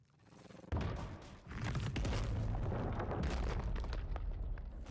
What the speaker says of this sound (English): we're going to fire a grenade in there